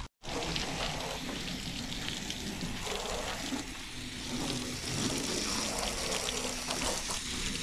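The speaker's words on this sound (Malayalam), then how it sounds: "ഈ ഓസ് ഇട്ട് നമുക്ക് തൽക്കാലം കഴുകാം" Water hose spraying onto a dusty car being washed outdoors in Canada, a continuous broadband hiss with slight surges, steady and fairly close.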